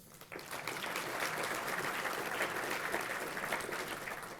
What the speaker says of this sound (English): Let's all give all of you a round of applause and thank you for being here.